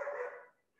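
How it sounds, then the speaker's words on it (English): Dog giving a single short, faint bark in the background, brief and distant, with no talk over it. "I don't know if you heard that in the background. The dog agrees with me."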